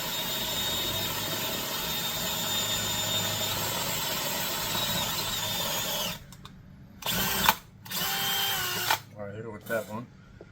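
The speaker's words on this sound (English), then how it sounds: "We'll drill a hole, put a rivet in, drill a hole, put a rivet in, just to be safe." A power drill whirs steadily and loudly for several seconds while drilling rivet holes in a lowrider bicycle, then stops; short bursts follow with someone talking between them.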